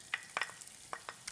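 Red onion frying in oil, a faint, brief sizzle with a few quick scraping stirs, quiet and close, without talk.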